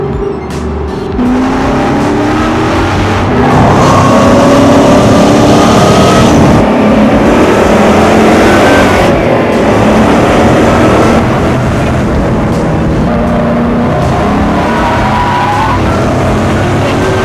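An electric AC GT Roadster, the successor to the Cobra, runs hard around a race track, its whining motor rising and falling with tire noise, loud and continuous for the whole stretch with no talking.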